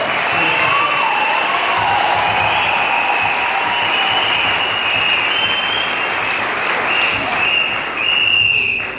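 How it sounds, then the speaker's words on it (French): A church congregation applauds loudly and steadily at a Sunday service, a dense, sustained round of clapping with some cheering mixed in, swelling slightly near the end before tapering off. "Applaudissez encore fort."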